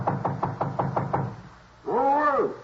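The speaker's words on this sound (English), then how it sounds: "went up to the 4th floor and knocked at the door" A run of seven firm knocks on an apartment door on a fourth floor, close and evenly spaced, followed by a short pause and then a voice speaking.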